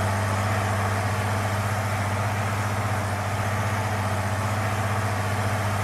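A tractor engine idles steadily in the farming video game Farming Simulator 19, a constant low droning hum with no change in pitch or loudness throughout, heard alone without any talk.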